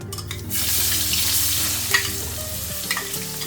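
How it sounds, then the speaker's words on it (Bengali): Onions dropped into hot oil with tempering spices for a prawn and young jackfruit curry, a sharp burst at the start giving way to a loud steady sizzle with occasional stirring clinks, no voices. "এবার আমি পেঁয়াজটা দিয়ে দেবো"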